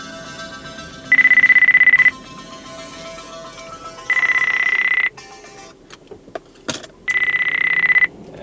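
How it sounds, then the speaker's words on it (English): Mobile phone ringtone sounding in a car driving through a Charlottesville neighborhood, three loud one-second electronic rings spaced about two seconds apart, with a clack of handling before the last ring. "There's my phone that I need to turn off."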